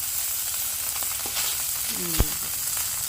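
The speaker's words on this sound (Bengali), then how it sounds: "বর্তার মাছ ভাজি হয়ে গেছে এখন নামিয়ে নিই" Fish sizzles steadily in a frying pan with broadband hiss, plus a few light utensil scrapes and one sharp clink near the end; no talking.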